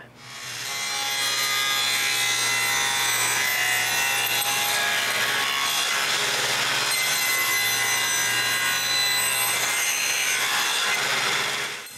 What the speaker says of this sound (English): I set it to cut both cheeks and cut them